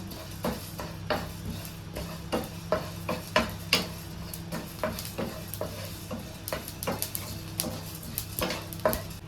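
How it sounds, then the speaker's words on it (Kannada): Black pepper and spices are dry-fried in a pan for a Mangalorean prawns ghee roast masala, with a utensil scraping and tapping against the metal in a steady, uneven rhythm over a soft background hiss and no talking. "ಈಗ ಇದನ್ನು ಚೆನ್ನಾಗಿ ಫ್ರೈ ಮಾಡಬೇಕು."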